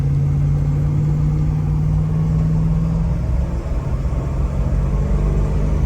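A 1997 Chevrolet Tahoe Z71 with a Vortec V8 pulls away under throttle, a loud, steady low engine drone with a rising tone heard from inside the cab.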